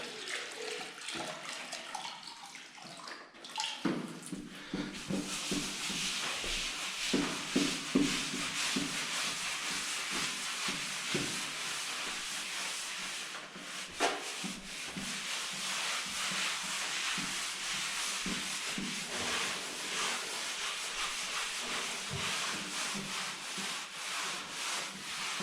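Epoxy tile grout is worked and emulsified across tile joints with water, producing continuous wet rubbing and scrubbing strokes close up, steady throughout with occasional knocks.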